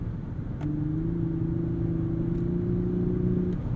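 Cabin view of a Lexus LS500 accelerating hard through the mid-range: a steady, rising engine drone with a smooth whir under constant road noise, sustained for several seconds, with no talking.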